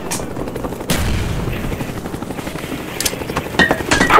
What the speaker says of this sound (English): I love this helicopter